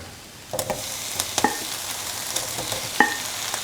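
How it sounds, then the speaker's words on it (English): Cooked potatoes and carrot tipped into a hot pan for a scrambled egg and coconut milk stir fry, giving a steady close sizzle with a few sharp utensil clicks and stirring scrapes over it. "cooked potatoes and carrot."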